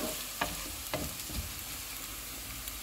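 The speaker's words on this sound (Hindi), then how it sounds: "प्याज फ्राई हो गए हैं, इसमें अदरक और लहसुन का पेस्ट डालेंगे। इसको हम 1 मिनट तक फ्राई करेंगे।" Ginger and garlic paste frying with golden-fried onions for dal makhani, a steady low sizzle with a few sharp stirring clicks and scrapes near the start.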